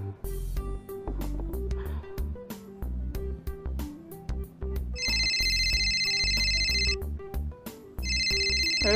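A cell phone ringtone plays in a short animated scene, a bright electronic chime that repeats in two long bursts over a busy musical backing, with no talk.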